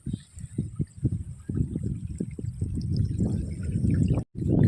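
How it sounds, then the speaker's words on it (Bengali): Rainwater running out of a farm field into a nearby pond, heard as a close, steady pouring trickle with bubbling splashes that grows fuller and continuous, briefly cut off near the end. "আর এখানে দেখুন কোন জল বেরোচ্ছে, দেখুন জমি থেকে, পাশে একটা পুকুর আছে, সেই পুকুরে গিয়ে জল জড়ো হচ্ছে এখন"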